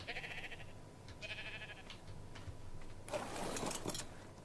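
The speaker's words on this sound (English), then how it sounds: "these sheep are going to come out pretty quick" Sheep on a farm in the video game ARK: Scorched Earth, with a few bleats amid mechanical game ambience, ending in a louder, noisier burst near the close, no speech.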